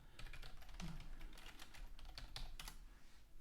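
Rapid keystrokes on a computer keyboard while setting up a Python virtual environment for a Django project, a steady, close run of clicks and taps over a light background hiss.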